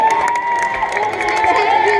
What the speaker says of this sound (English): don't forget that thunderous applause for yours truly